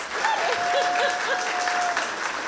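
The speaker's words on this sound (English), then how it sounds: "So round of applause." A crowd at a Halloween museum night breaks into brief, lively applause, with a thin whistle-like tone and a few voices cutting through the clapping.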